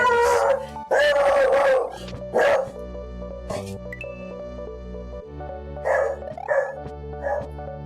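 Dog named Spike barking: several loud, close barks and yips in bursts, followed by a whine-like howl, over a steady hum of background game music.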